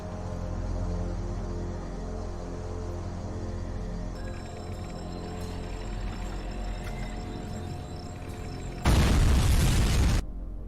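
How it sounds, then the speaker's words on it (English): Explosion in a Terminator fan film: a sudden loud broadband boom bursts in near the end, over a steady low rumbling music and ambience bed, then cuts off abruptly. "Did the explosion slow them?"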